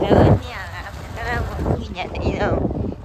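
Wind buffets the microphone in low rumbling gusts, strongest at the start, while voices talk over it.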